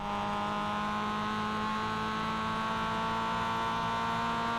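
Race car engine from the sim game iRacing holds a steady, loud whining drone at high revs with only slight pitch drift, continuous and close, with no voices.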